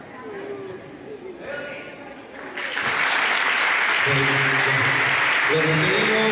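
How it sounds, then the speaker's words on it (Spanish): An audience at a taekwondo event breaks into loud, sustained applause after a few seconds of quieter chatter, with a person speaking over the clapping. "Los despedimos con un fuerte aplauso"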